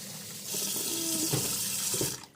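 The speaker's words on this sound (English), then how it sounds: "put a little water in this thing" Tap water running into a container while making breakfast, a close steady splashing rush that starts abruptly, rises slightly in pitch as it fills, then cuts off.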